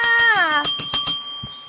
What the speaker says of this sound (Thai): ระดิ่งค่ะ